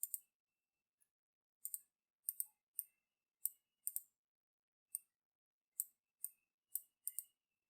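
Mouse clicks selecting pictures while building a PowerPoint slide, about a dozen sharp, quiet clicks in irregular single and double bursts against near silence.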